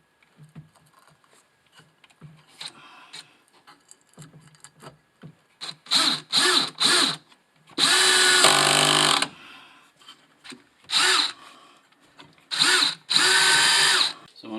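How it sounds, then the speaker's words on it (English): Cordless power drill driving pocket screws into a bathroom wall during a tub and shower remodel, several short whirring bursts and a few longer runs separated by quiet gaps, close up with faint handling clicks. "I'm just going to screw it to the side."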